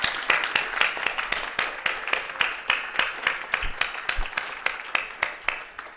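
An audience at a museum panel discussion gives sparse, uneven applause, with individual claps heard distinctly in an irregular patter, moderately loud and steady throughout.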